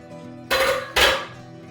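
Ground meat dropped into a cooking pot for a meat spaghetti sauce, two loud close thuds with a metallic clatter about half a second apart, with no talking.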